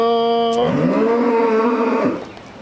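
A dairy cow at a cattle market gives one long, loud, close moo that holds steady for about two seconds before trailing off, with no talking over it.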